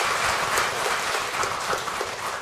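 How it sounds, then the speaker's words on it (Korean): Dense, loud applause from a congregation at a Won Buddhist dharma service, continuous clapping throughout with no pauses. "다시 한번 큰 박수 부탁드리겠습니다."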